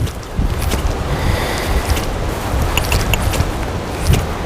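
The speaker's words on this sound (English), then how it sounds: "This wind is beating us up." Strong wind buffets a fishing boat out on the water, a loud, continuous rushing roar with gusty swells and no voices.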